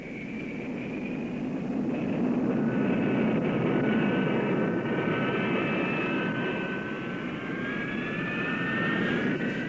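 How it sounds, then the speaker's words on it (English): A McDonnell Douglas F-4 Phantom jet engine runs on the ground, a loud, steady roar with a rising whine layered over it, continuous for the whole stretch with no voices. "Ground runs at dry and afterburning thrust were undertaken to prove the basic installation."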